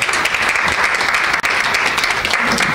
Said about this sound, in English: Just want to acknowledge her and please give her a round of applause to Alejandra Montoya Boyer.